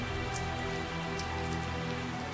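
Steady rain pours in the Tales of Zestiria video game, a dense even hiss with scattered drop taps and no voices.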